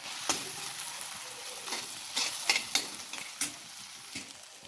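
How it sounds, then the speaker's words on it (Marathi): Onion frying in a pan for kurdai bhaji, a low steady sizzle punctuated by several sharp scrapes and clacks of a spoon stirring against the pan. "कांदा आपल्याला अजून लाल करून घ्यायचा आहे."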